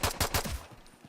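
A Glock-type pistol fires at a range in the video game Ghost Recon Future Soldier: three quick, sharp shots in rapid succession, then a short fading tail.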